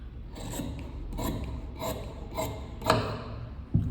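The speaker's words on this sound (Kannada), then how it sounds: "ಅದನ್ನು ಬೇಕಾದರೆ ನೀವು ಈ ಥರ ಕಟ್ ಮಾಡ್ಕೊಬೋದು" Scissors cut through blouse sleeve fabric in about six rhythmic, rasping snips, close and fairly quiet, with no talking.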